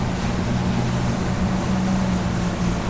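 A Hydrolift X-32S motorboat cruises along near a beach with a steady low engine drone and constant rushing water, a continuous even roar throughout.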